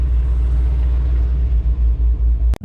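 A cammed 5.7 Hemi drag car engine idles with a deep, loud, steady rumble at a drag strip during hot laps, with a sharp cutoff near the end.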